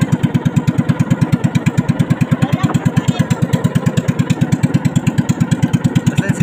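A motorcycle engine runs steadily close by with a fast, even pulsing beat that holds without a break, loud and alone, with no talk over it.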